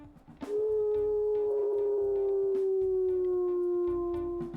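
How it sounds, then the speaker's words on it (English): A long, loud wolf howl from WolfQuest Wayfinders rises, then holds a steady, slowly falling tone for about four seconds over a low game background hum, with no talking. "Her howl here, let's listen to 16."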